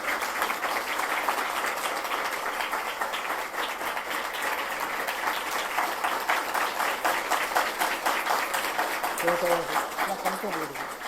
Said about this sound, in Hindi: ताली जोर से बजाया करिए।